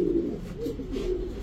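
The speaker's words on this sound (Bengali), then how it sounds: "একদম আনার চোখের ক্রিমবার রেসার একটা মাদি কবুতর" A female cream-bar racer pigeon gives soft, repeated throaty coos in short rolling pulses, heard up close with little else around.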